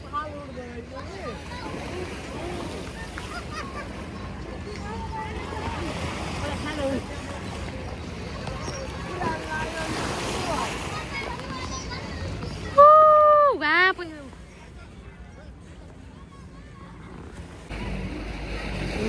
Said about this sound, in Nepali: उताबाट पानी यता आयो नि त त्यो स्टिमरले गर्दा